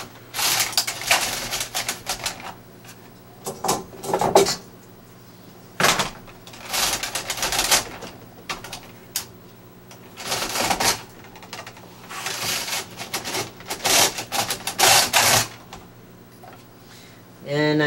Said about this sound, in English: And just start knitting until I get to row 87.